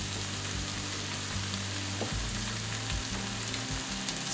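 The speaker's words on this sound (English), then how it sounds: "Let's give that a stir." Food for a broccoli and ham quiche filling frying in a pan, a dense continuous sizzle with a low rumble and occasional soft scrapes as it is stirred, close up and without speech.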